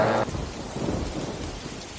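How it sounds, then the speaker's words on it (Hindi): Steady rain hisses and patters on a leaking roof, with a low rumble of thunder underneath. "ये लो, बारिश आई नहीं कि छत टपकनी शुरू हो गई।"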